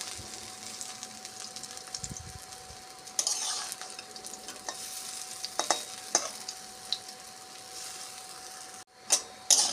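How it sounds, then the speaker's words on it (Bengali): Small lentil bora fritters frying in oil in a kadai and being flipped, a soft steady sizzle with occasional scraping and tapping clicks from turning them, fairly quiet and close. "এক পিঠ ভাজা হয়ে গেছে, আর এক পিঠ উল্টে দিচ্ছি"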